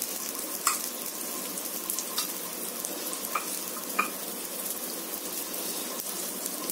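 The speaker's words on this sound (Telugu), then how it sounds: "దీన్ని మనం ఎర్రగా కాల్చుకుందామండి" Onion pesarattu frying in oil on a pan gives a steady, fairly loud sizzle with a few sharp pops and spatters scattered across it, no talk.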